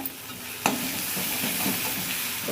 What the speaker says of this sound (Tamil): இப்போ கடுகு பொரிய ஆரம்பிச்சிச்சு அடுப்பை சிம்மில் வச்சுட்டு